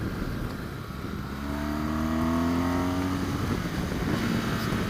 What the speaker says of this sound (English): let's give it a little power here. See how it winds out